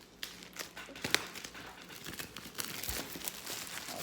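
Plastic shrink wrapper crinkling and tearing as it is pulled off a Brian May Back To The Light deluxe box set, close, continuous rustling with sharper rips.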